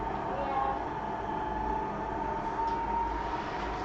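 A steady mechanical rumble and whirring hum of a model train running continuously, with a faint whine and some quiet voices in the background.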